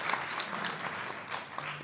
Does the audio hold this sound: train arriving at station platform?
no